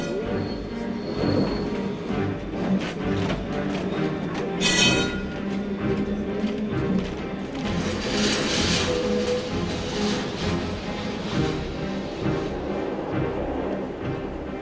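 Tram rolling along its rails, a continuous rumbling clatter with a few brief squeals of wheels against track, heard from on board at a moderate level throughout.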